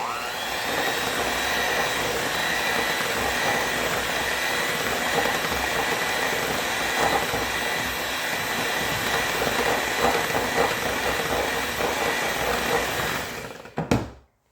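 An electric mixer whirring steadily through fruitcake batter in a bowl, a constant loud motor drone lasting over ten seconds before it winds down and stops.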